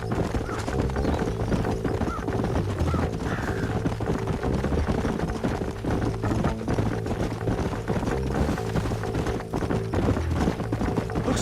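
Horses' hooves clip-clop steadily and continuously in the Western video game Red Dead Redemption, a dense galloping rhythm running under a layer of game music, with a brief whinny possible.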